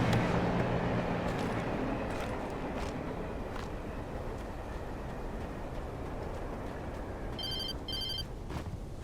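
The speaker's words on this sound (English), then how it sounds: "Oh, we're getting phone calls now?" Two short bursts of a telephone ringing near the end, in the video game Alan Wake, clear over a low, steady ambient rumble and scattered faint noises.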